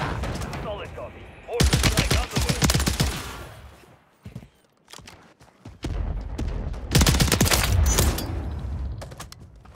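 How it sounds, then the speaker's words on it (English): Mortar support strikes in a battle royale shooter, landing as a series of heavy explosive bursts mixed with rapid gunfire, loud and close, with quieter gaps between salvos. "Mortar support incoming."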